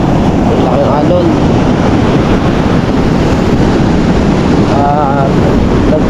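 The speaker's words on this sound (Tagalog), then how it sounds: "Tayo sa dagat at malaki ang alon na naman." Steady roar of heavy surf and wind buffeting the microphone, continuous and loud with no letup, waves crashing close by.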